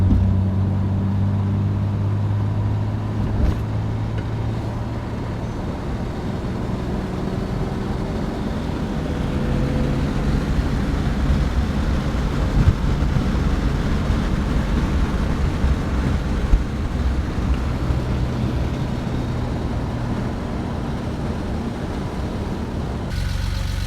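A car drives steadily along a road, with a constant low engine drone and rushing wind heard from inside the cabin, no voices, and a faint click or thump now and then.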